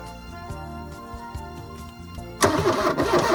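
A 1980 VW Caddy engine cranks with a rhythmic whirring after fuel priming, then catches at the end and jumps into a louder, rougher running roar.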